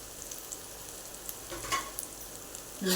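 Green beans sautéing in a pan with turmeric and salt, a soft, steady sizzle and hiss with a few light stirring scrapes, faint and close, no voices.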